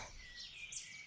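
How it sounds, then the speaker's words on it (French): Small birds sing in a countryside garden, faint high chirps and trills spread thinly over soft background hiss, with no talk. "Vous entendez le chant des petits oiseaux ?"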